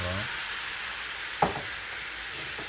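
Thick kuymak (mıhlama) being stirred in a hot pan, a steady frying sizzle throughout with one sharp scrape of the spoon against the pan midway and a faint second one near the end.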